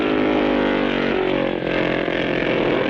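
A 250cc racing motorcycle at the 1956 North West 200 opens up on the slight upgrade of Portstewart Promenade, a loud, steady buzzing engine note holding strong for a few seconds.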